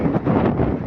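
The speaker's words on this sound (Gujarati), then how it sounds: "પવન છે." Strong wind blowing across open farm fields under rain clouds, a steady loud rush buffeting the microphone with no voices.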